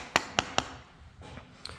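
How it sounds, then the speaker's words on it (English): A rubber mallet gently taps a timing chain gear on a Ford 289 engine: three sharp, evenly spaced close knocks, then a couple of softer, fainter taps, with no talk. "you just kind of gently tap her with a rubber mallet"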